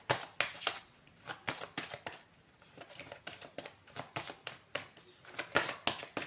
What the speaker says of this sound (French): on va recouvrir avec ces cartes-là